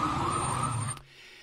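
An ambulance siren wails loudly nearby in a steady tone, then cuts off abruptly about a second in, leaving quiet background.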